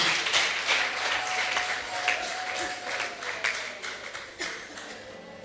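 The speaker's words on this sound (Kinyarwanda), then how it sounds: "Dukomera Yesu amashyi menshi." An audience at a church choir event claps together, a dense steady patter that holds for the whole stretch and fades a little toward the end, heard from within the crowd.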